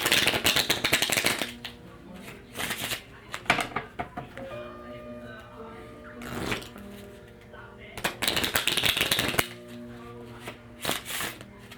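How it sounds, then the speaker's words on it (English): Playing cards being riffle shuffled close by: repeated bursts of rapid fluttering clicks, separated by brief clacks and handling noises. "This is learning to riffle shuffle day 5."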